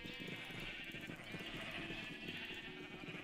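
Sheep bleating in a Minecraft-style video game, a steady run of repeated bleats from several animals layered under continuous game background sound, with talk over it.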